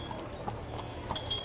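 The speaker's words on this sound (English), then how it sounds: "Beautiful draft horses. They just look so calm." Hooves of draft horses clip-clop steadily on the pavement during a Wild West Fest parade, a soft, even rhythm heard nearby over a faint outdoor murmur.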